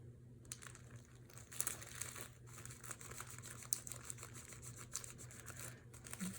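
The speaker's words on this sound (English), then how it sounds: "I'm just going to tape that on there" Tape is pressed onto wrapping paper on a gift with hand-stitched scrappy ribbon, making quiet close crinkles and soft scratchy rustles in short uneven bursts.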